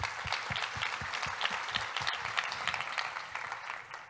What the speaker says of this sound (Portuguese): Uma salva de palmas para José Felipe.